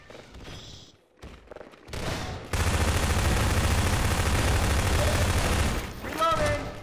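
Sustained automatic gunfire in the co-op shooter Human Error, a dense loud volley of shots fired at a player, with people talking briefly before and after.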